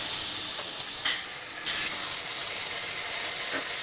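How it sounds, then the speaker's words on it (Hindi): Masala of green chilli, ginger and garlic paste fries in oil over a low flame in a pan, a steady loud sizzle with occasional scraping stirs, with no talking. "देखिए हमारा मसाला थोड़ा थोड़ा भुनने लगा है"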